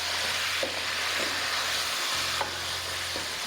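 Mutton pieces fry with salt in a karahi pan over low heat for karahi gosht, giving a steady close sizzle and hiss, broken by a few soft clinks of stirring and a low hum.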